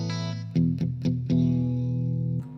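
An electric guitar played through the Iridium power amp rings out in sustained, distorted chords with a few strummed hits and chorus-like shimmer, loud and upfront with no talking.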